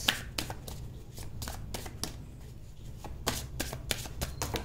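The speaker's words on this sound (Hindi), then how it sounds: "चलिए मैं लेती हूँ कार्ड अभी।" Tarot cards being shuffled and drawn from a deck, a close run of quick papery riffles and flicks in uneven bursts over a low background hum, no voices.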